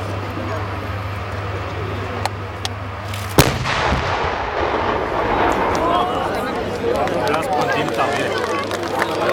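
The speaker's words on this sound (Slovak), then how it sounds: "je určite pripravený na intenzívnejší výstrel, ako bol ten predchádzajúci." An ShKH vz.77 Dana self-propelled howitzer fires once, a sharp loud blast followed by a long rumbling decay, with a low engine drone beforehand and voices and outdoor activity around it.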